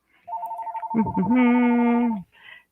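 An indoor telephone rings during a horoscope forecast: a warbling electronic ring tone, loud and close, builds into a sustained ring before cutting off abruptly.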